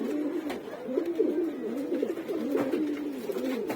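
A pet dove coos in a repeated soft rhythm of low, rounded calls, close and steady, with no talking alongside it.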